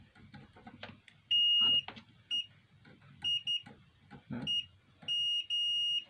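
A multimeter's continuity beeper sounds while probing a rice cooker under repair, giving several steady high-pitched tones of varying length, some short and some held for about half a second, with quiet handling noise between them.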